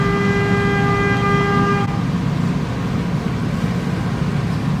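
A car horn gives a single sustained honk close by, blaring for about two seconds before cutting off, leaving steady engine and background rumble in a garage setting.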